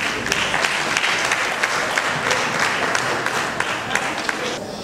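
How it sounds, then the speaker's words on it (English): A seated audience at a talk on Malawian and Zambian immigrants' contributions to Zimbabwe breaks into steady, dense applause, a continuous wash of many hands clapping at moderate distance without a break. "Can you please give him a round of applause?"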